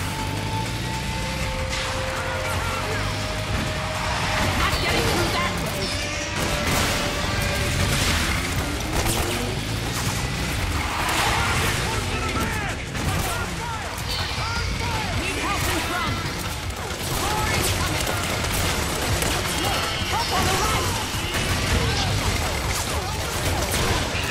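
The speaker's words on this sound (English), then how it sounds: "Of course, you want to shoot barrels on the way." Explosive barrels and enemies shot in Metal Gear Solid 4 on a crowded battlefield: dense, continuous game noise with crashing blasts, thuds and gunfire layered over one another, loud throughout.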